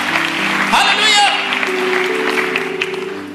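Congregation applause in a church service, steady clapping mixed with cheering voices and a held musical tone underneath, fairly loud throughout.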